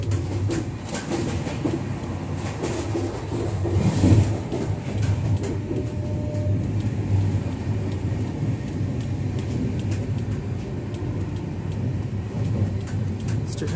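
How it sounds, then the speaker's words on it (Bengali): An express train runs at full speed through Dhalbhanga station, giving a steady loud rumble with rhythmic wheel clatter throughout and no talk. "ধলভঙ্গার স্কিপ করছে এখন ট্রেন"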